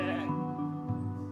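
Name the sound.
sheep bleating sound effect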